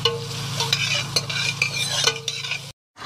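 Barracuda pieces sautéing in a pot, a steady loud sizzle and crackle with a few sharp clinks of a utensil stirring, close up, ending abruptly in silence.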